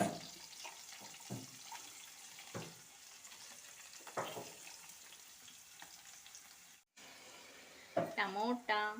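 Onions frying in a hot pan for a home-made chicken roll, a steady soft sizzle running throughout with occasional stirring clinks and a brief gap, plus louder scraping and clatter near the end.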